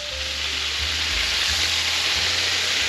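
Country style steak fries and browns in a hot pan, a steady loud sizzle with bubbling crackle running throughout, no voices over it.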